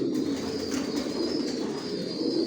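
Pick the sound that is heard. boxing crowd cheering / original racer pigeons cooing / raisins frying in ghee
original racer pigeons cooing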